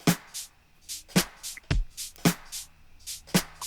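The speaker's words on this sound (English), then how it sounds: "Then we have some wood blocks." Wood blocks play in a funk drum beat, crisp hollow knocks landing in a steady groove between deep kick thumps and hissy hat-like bursts, clear and close.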